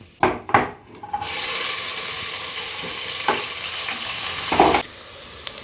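Chopped onion dropped into a hot pan with cumin seeds, sizzling loudly and steadily after a few clattering stirs, then stopping abruptly near the end.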